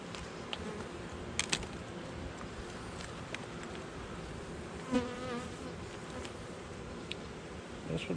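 Honeybees droning around a hive frame being inspected, a steady close buzz throughout, with occasional sharp clicks and a soft thump as the frame is handled.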